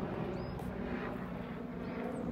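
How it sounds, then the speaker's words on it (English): A real helicopter passes overhead outdoors, heard as a steady low droning hum that stays constant and fairly faint throughout, with no talk. "The helicopter? That's a real one, isn't it?"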